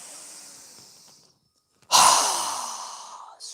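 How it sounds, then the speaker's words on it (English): Forceful breath out through the mouth during a yoga breathing exercise, a loud, close rush of air that follows a softer breath and a short silence, then fades. "exhale through our mouth with a strong exhale breath"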